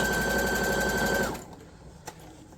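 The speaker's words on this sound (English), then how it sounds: "I'm just going to sew all the way around" A sewing machine stitches around a drawstring bag made from a t-shirt, a rapid close whirring hum for just over a second before stopping, followed by a small click.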